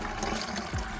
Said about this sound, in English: coolant going away as well.